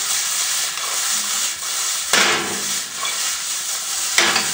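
Chopped sweet red pepper frying in a pan on medium-high heat, a continuous crackling sizzle with stirring scrapes and a couple of sharper bursts of hiss, fairly close.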